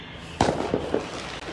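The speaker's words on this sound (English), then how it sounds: "Fireworks are popping off." Fireworks burst outdoors at night on a street near a police precinct: one sharp loud pop, followed by a few quicker, fainter crackling bursts.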